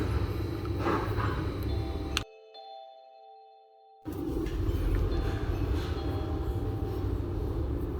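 A train rumbles steadily from inside a carriage, cut by a sudden two-second drop to near silence with a faint tone, then the rumble resumes.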